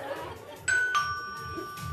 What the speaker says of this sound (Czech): Teď slyším, že někdo zvoní.